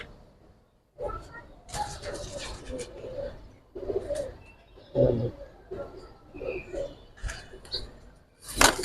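Giribaz pigeons coo at a pigeon seller's stall in Old Dhaka. Their repeated soft, throaty coos come close by, mixed with people talking.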